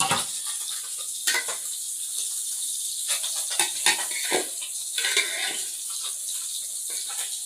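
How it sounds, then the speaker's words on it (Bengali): Fish fries in a pan on a stove, a constant bright hiss of hot oil with scattered scrapes and light knocks of a utensil moving the pieces. "আমি এই যে মাছটা ভাজি করা শুরু করে দিছি, চুলার উপরে দিয়ে দিছি কিন্তু মাছ ভাজি করার জন্য"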